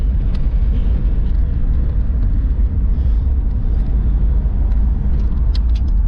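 A 1960s car with an 8 3/4 rear end drives steadily, its engine and road noise giving a loud, constant low rumble from inside the cabin with no talking.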